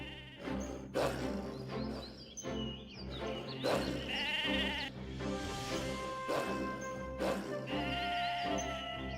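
Sheep in the video game Mabinogi bleat repeatedly over game background music, several distinct nearby cries spaced across the scene during shearing, with no voices.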